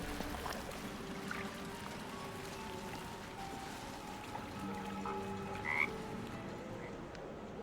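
A frog croaks in Baldur's Gate 3 against a quiet ambient game backdrop, with faint, sparse croaks and a soft watery texture throughout.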